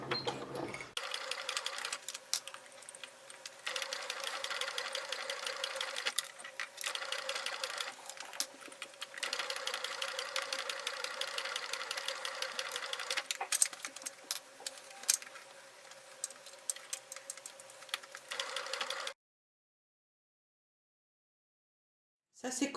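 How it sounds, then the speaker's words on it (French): A sewing machine stitches lace onto the edge of a fabric pouch, a steady close mechanical whirring hum running almost continuously before stopping abruptly near the end. "Je couds sur le bord."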